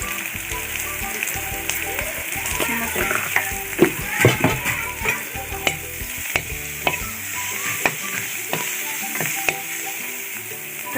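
Garlic and turmeric fry in hot oil as a home cook prepares a local Assamese dish, a steady close sizzle crackling throughout with sharper spatters and utensil scrapes breaking through now and then.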